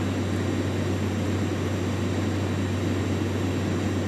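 Airliner engines drone steadily at climb power after takeoff in the X-Plane 12.5 flight simulator, a constant low roar with a fixed hum beneath and no speech.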